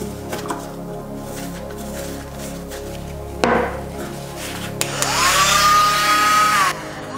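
Dremel rotary tool grinding a metal coin ring, a steady high whine rising after a few seconds of scattered knocks and handling noise, with a sharp clack midway; close and moderately loud, no talking.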